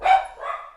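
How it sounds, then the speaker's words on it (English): A single indoor dog bark, close and fairly loud, a short sharp woof followed by a softer trailing second burst, with no talking. "what are you barking at?"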